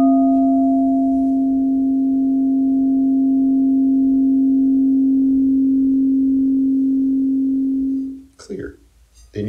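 A 12-inch crystal singing bowl tuned to C, the first-chakra bowl of a seven-bowl set, rings with a loud, steady sustained tone for about eight seconds before it fades and a voice begins speaking.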